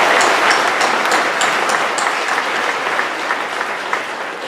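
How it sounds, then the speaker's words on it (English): Convocation audience in a hall giving a round of applause, full sustained clapping from a large crowd that stays loud and even, easing only slightly toward the end, with no talking over it. "let's give them a round of applause"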